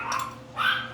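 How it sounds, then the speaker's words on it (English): A dog barks twice in quick succession, close by and fairly loud, with no one talking. "Sorry about my dog."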